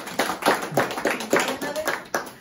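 Audience clapping at a CNA pinning ceremony: a quick, uneven run of hand claps, fairly close and lively, with a few voices mixed in.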